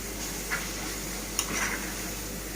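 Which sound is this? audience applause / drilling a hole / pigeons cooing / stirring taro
stirring taro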